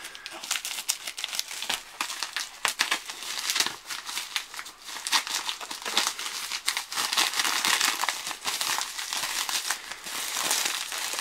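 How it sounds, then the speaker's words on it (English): Plastic DVD packaging being opened with scissors, a close, busy run of crinkling and crackling wrap with sharp snips and tearing bursts, continuing throughout with no talk. "Okay, I'm gonna need the scissors for this one."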